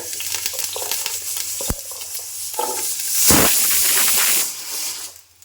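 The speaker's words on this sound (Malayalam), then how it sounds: "എണ്ണ ചൂടായിട്ടുണ്ട് ഇതിലേക്ക് ഞാൻ ഉള്ളി ഉള്ളി മുഴുവനോടെയാണ് ഞാൻ ചേർക്കുന്നത്" Whole onions drop into hot oil in a pan and a loud, close sizzling hiss bursts up, holds steady for about a second, then eases off, with some clinking just before and no talking.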